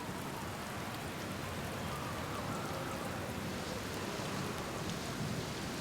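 Steady rain falling in the game Outer Wilds, a soft even hiss of drops on surfaces, faint and continuous with no other sounds breaking through.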